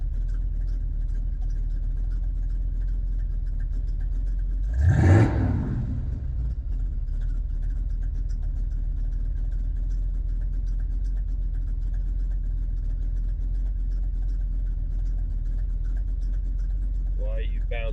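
A 1976 Ford Ranchero engine idles steadily around 900 to 1,000 RPM, a constant low rumble throughout with one brief louder swell midway.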